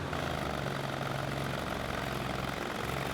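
A 31-horsepower Briggs engine on a pulling tractor at a tractor pull revs steadily, a continuous loud droning roar with a low hum, held near and constant throughout.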